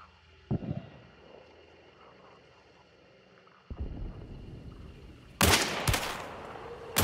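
Scattered gunshots from a bounty hunt video game: a sharp crack early on, another report midway, then louder close bursts near the end, separated by quiet stretches.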